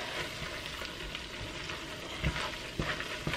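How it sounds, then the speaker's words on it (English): A sugary candy mixture melts in a pot as it is stirred, giving a steady close bubbling sizzle with a couple of sharper scraping knocks near the end. "let's get this stirring because it is already wanting to thicken or harden up"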